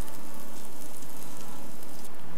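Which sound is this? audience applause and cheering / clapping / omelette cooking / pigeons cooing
omelette cooking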